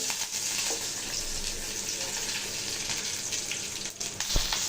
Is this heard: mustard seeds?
yes